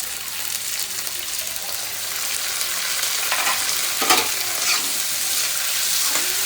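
Onion and tomato sizzle in a pan over a high flame while being stirred, giving a continuous bright hiss with occasional louder scraping strokes of the spoon, heard close up with no talking.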